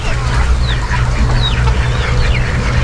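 Ducks quack and chatter continuously close by, with chirps from chicks over a low steady hum.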